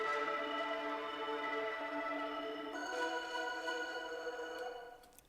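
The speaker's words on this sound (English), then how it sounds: "I really wanted to make it sound like a horn" A sustained, buzzy synth chord with a slightly distorted, brassy horn-like tone, shifting once midway, then fading out at the end.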